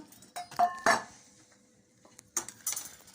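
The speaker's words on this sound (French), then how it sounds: "on met notre sucre dans un grand saladier bien sûr" Sugar poured into a large mixing bowl while making a marble cake, heard as short clinking, rattling bursts of bowl and utensil handling with quiet gaps between.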